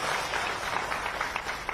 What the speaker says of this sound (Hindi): आज भी तालियां बजाकर उनका स्वागत करें, उनका अभिनंदन करें